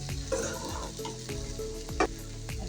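Taro (kochur mukhi) frying in a pan in a home kitchen, with a soft, close sizzle under intermittent stirring and scraping, alongside faint background hum, no one speaking.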